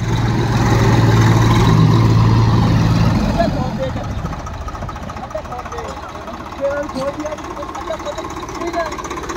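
A Swaraj tractor engine roars loudly under heavy load during a pulling contest against a small Massey tractor, then settles into a lower, steady labouring drone. People shout instructions over the noise.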